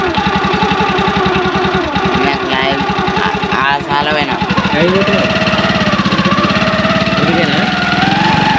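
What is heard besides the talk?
motorcycle engine idling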